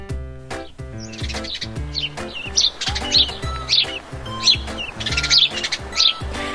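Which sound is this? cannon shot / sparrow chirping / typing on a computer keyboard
sparrow chirping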